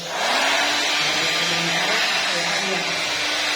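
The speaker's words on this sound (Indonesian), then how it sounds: "Ini saya punya hair dryer" A hair dryer blows steadily while curly hair is being styled, a loud, continuous broadband whoosh with a faint motor hum beneath it and some talking over it.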